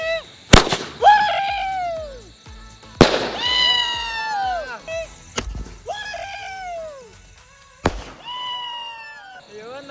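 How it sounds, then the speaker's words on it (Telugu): Sky-shot Diwali firecrackers bursting overhead: four loud sharp bangs, each trailed by whistling, crackling sparks that fade before the next. "2025లో ఫస్ట్ క్రాకర్ కాలుస్తున్నా. స్కై షాట్ లెక్క వస్తుంది."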